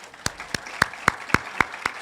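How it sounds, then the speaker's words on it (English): Clapping at a ribbon-cutting ceremony for a new campus commons and pavilion: about eight sharp, evenly spaced claps in a steady rhythm, close and distinct over a quiet background. "I guess I'm not used to all this clapping."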